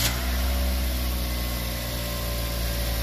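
A car engine idles steadily right after starting for a mass air flow sensor test, a constant low rumble with a faint hiss and no talk.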